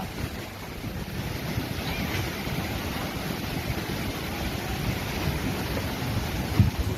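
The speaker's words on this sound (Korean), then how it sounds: "파도가 쓰나미처럼 들어오죠." Large waves surging onto the east coast of Korea, a steady broadband roar of surf mixed with wind noise on the microphone, continuous and fairly loud throughout with no voices.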